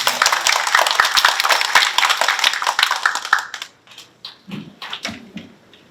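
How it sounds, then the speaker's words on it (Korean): Audience applause at a Korean seminar for a professor taking the stage, a dense continuous clapping for about three and a half seconds that then thins into a few scattered claps and rustles. "나오실 때 큰 박수 부탁드리겠습니다."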